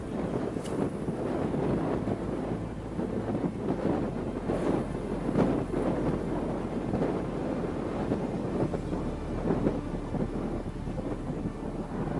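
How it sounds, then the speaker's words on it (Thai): Strong wind buffets the microphone beside a fish pond, a continuous loud roaring rumble with gusty surges and no clear pauses. "วันนี้ลมแรงนะครับลมแรงตรงนี้"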